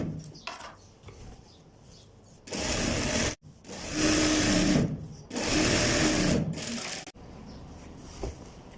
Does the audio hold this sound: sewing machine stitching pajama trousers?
yes